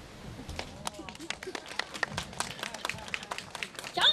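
Scattered, uneven claps from a small audience at a French-language talk, a few hands answering a show-of-applause question, light and sparse over a low murmur before rising slightly at the end.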